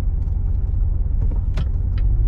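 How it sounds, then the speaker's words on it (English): A 2016 Chevrolet Corvette Z51 coupe with an automatic gearbox cruises with a deep, low engine rumble heard from inside the cabin, steady throughout, with a few faint clicks and rustles over it. "Today we're driving a 2016 Chevrolet Corvette Z51"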